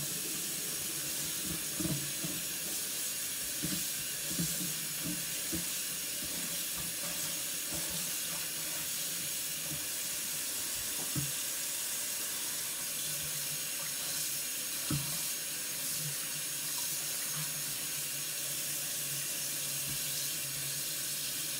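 Tap water runs steadily into a kitchen sink while kale leaves are rinsed, a constant close hiss with occasional soft knocks and splashes from handling the greens.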